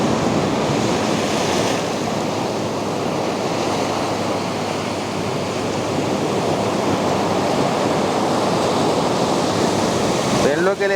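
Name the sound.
sea water surging through coastal rock tubes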